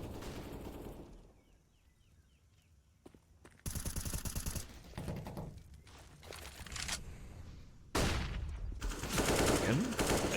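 Gunshots in a Counter-Strike match on the Ancient map, with sharp rifle cracks and rapid automatic bursts separated by quieter stretches of movement, the firing growing loud and dense toward the end.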